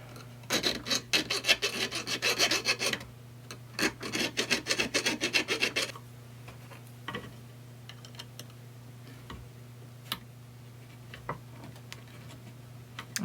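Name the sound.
round file filing a tube rivet hole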